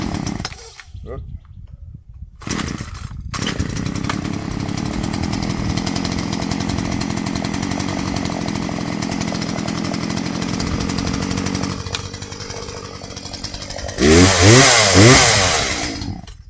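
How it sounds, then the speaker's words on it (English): On a homestead, a chainsaw runs after being started, holding a steady idle-to-mid drone for several seconds before revving up loudly near the end, with someone talking over it. "Chainsaw you want to take care of."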